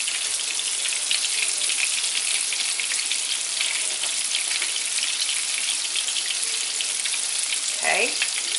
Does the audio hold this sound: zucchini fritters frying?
yes